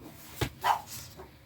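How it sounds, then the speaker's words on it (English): A dog gives a few short barks indoors, one sharp burst followed by a louder, tonal bark and a fainter one, at moderate distance with no talking. "Oh, the dog."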